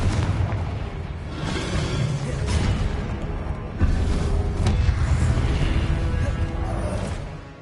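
Confringo blasting spells exploding in Hogwarts Legacy, a series of loud booming blasts and crackling bursts in quick succession, each burst swelling and decaying, with dense continuous noise between them.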